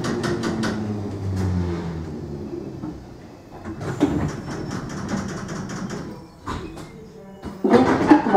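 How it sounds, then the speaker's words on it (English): London Underground Bakerloo line 1972 stock doors close with a sliding rumble and a series of clunks and knocks, followed by a quieter stretch and a final loud thud near the end. "Please stand clear of the doors."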